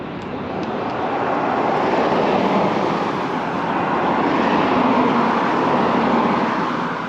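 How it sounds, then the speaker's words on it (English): Steady roar of cars passing on a road, a continuous broad whoosh swelling and fading gently over several seconds, fairly loud and close, with no talking. "Let's listen to some of these cars go by."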